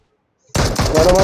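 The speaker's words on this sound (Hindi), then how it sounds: "गोली चलने लग गई मेरे ऊपर" Rapid automatic gunfire in a PUBG-style battle royale video game breaks out suddenly after a moment of silence, loud and close, with several quick bursts in a row.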